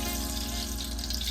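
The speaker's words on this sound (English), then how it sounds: "So now I'm going to start frying the vegetables." Steady crackling sizzle of onion and other vegetables frying in olive oil in a pan, close and continuous, with a low hum underneath and no voices.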